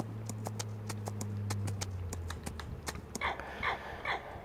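Horse hooves clip-clop steadily on the ground in the Farming Simulator 25 video game while horses are being trained, a brisk regular rhythm of sharp knocks over a low steady hum, shifting to softer, lighter steps near the end; no talk.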